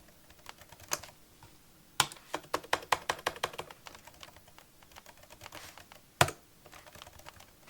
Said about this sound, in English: I don't have my normal keyboard that I use for programming it, so I keep hitting the wrong buttons